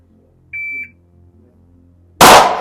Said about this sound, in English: Wait till you hear the beep.